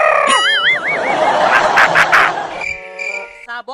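Chickens and roosters squabble at a cockfight, with sharp wavering clucks and crowing-like calls over a dense, busy crowd din. A voice briefly calls out amid the commotion.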